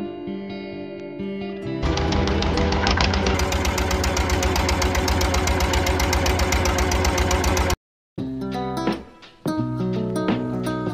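A hired motor boat's engine drones loud and steady on the sea at the river mouth between Mandarmani and Tajpur, with a knocking, mid-pitched throb that briefly cuts out before resuming unevenly.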